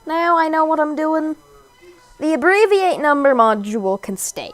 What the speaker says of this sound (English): you may hear my cat yelling in the background